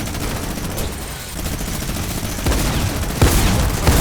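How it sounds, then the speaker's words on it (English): Fortnite minigun fire, a continuous loud roar of rapid shots that builds in intensity, with heavier bursts and sharp impacts near the end. "Shooting at you with a minigun"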